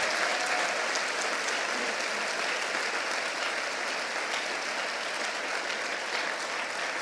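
Steady, dense applause from a church congregation fills the whole stretch at an even, sustained level, with no voices breaking through.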